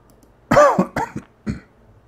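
A man coughs in a quick burst of three or four harsh, close coughs, the first loudest, with a short pause before a final cough and quiet between.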